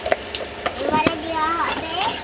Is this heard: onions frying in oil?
yes